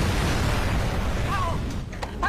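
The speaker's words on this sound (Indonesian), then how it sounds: "Saat pintu kamar itu dibuka, oksigen yang tersedot asap akan nimbulin ledakan." In a Korean drama, an explosion bursts from a smoke-filled room as its door is opened: a loud, broad roar that fades away, followed by a few short sharp cracks.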